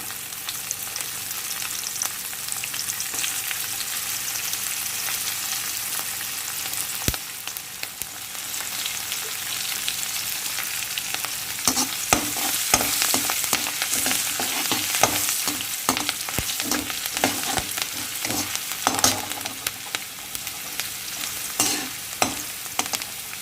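Green chillies frying in oil for raw mango rice, a constant hissing sizzle that grows busier as a spatula starts scraping and stirring in quick, uneven strokes.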